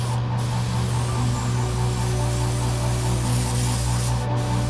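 Gaahleri GHAD-68 airbrush sprays green base paint in a steady, close hiss, with a low compressor hum running constantly beneath it.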